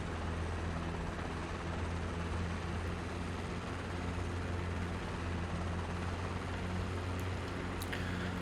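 A Robinson R22 helicopter in Microsoft Flight Simulator 2020 drones with a steady engine and rotor hum as it prepares to lift off, a constant, moderately loud whir with no voices over it.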